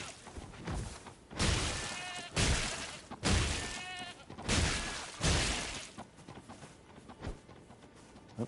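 Sheep bleat in the Elden Ring video game, five loud wavering cries in a steady rhythm over about five seconds, followed by fainter scuffling game sounds.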